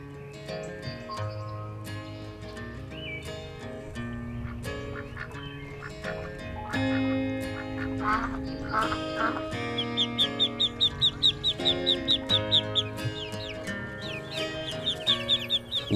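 A mother duck leading her 10-to-15-day-old ducklings out of a crate on a rooftop patio, with rapid clucking and high peeping in quick bursts over background music, growing busier toward the end.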